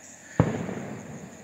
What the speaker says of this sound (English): somebody's shooting fireworks to celebrate, I guess, or a cannon